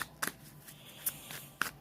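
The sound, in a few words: shuffling a Universal Celtic Tarot card deck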